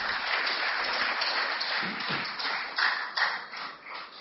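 A crowd claps steadily in a dense, sustained burst of applause, welcoming Rajiv Dixit onto the stage at a public talk, with a couple of sharper claps standing out near the end.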